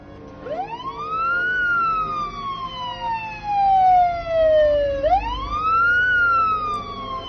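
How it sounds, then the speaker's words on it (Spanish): A wailing police siren rises and falls in long sweeping tones, fairly loud and steady, with the pitch swooping again near the end; no voices. "Podía oír las sirenas en la distancia, cada vez más fuertes."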